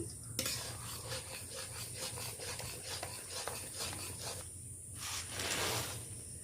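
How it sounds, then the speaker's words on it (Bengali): Peanuts for peanut brittle are stirred around a pan, giving a dry, rasping scrape that repeats in uneven strokes, close and fairly soft, with brief pauses between passes. "এইভাবে ভালো করে আমি নেড়ে নিচ্ছি।"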